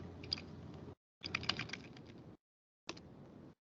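Typing on a computer keyboard while entering MATLAB commands, three short bursts of rapid, close key clicks separated by brief silences, with no talking.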